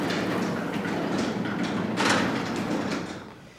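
An automatic garage door opener reverses and lifts a residential garage door back up after its safety beam is broken, producing a continuous rolling rumble with a louder surge midway that then tapers off. No one speaks.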